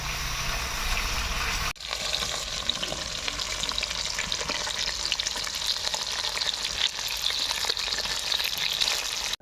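Fish fries in oil in a kadai, a loud, close, steady sizzle and crackle that is briefly interrupted near the start before continuing.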